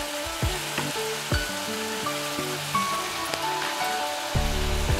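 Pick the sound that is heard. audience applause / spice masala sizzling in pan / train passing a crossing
spice masala sizzling in pan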